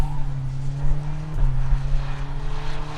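A BMW M car drifts at around 100 mph at a performance driving school. The engine holds a loud, close drone that climbs in pitch, with a rough tire and wind roar running steadily throughout.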